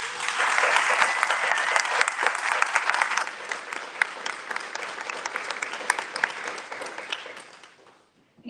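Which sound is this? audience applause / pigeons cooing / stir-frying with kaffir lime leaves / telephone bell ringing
audience applause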